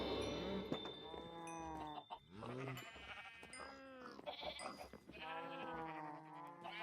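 Farm animals in the Minecraft video game give repeated drawn-out lowing and bleating calls in overlapping bursts, fairly loud and close, with no talking over them.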